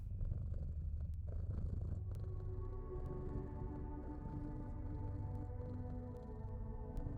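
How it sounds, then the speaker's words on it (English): A cat purrs in the video game Centum, a steady low rumbling purr running close and continuous throughout with no voices. "This cat has problems."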